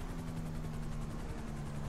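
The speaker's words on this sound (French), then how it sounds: "Il y a un hélicoptère au dessus." A helicopter in a police video game (LSPDFR) drones steadily overhead, its rotor thrum and engine whine filling the air continuously without any talking.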